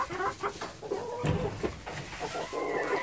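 Chickens in a backyard farm coop cluck and call in a busy overlapping flurry, a louder burst rising midway, with other birds and farmyard noise mixed in close by.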